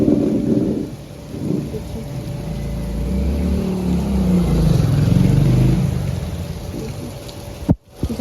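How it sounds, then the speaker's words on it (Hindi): Heavy monsoon downpour with rumbling thunder during the Sawan season, a steady loud wash of rain on surfaces with low rolling thunder throughout and a sharp crack near the end. "अभी देखिए कितनी तेज़ से बारिश हो रही है"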